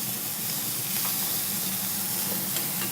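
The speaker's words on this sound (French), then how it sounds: "dans la poêle en ce moment, il y a... Alors il y a du lard, c'est tout." Lard frying in a pan in a restaurant kitchen, a steady, close sizzle and crackle with fine spattering pops, continuous and fairly loud, with no talk over it.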